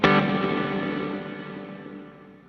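A Meris Mercury X reverb pedal with added taps, a single struck tone blooming into a dense, shimmering, slightly distorted wash that decays slowly over a couple of seconds.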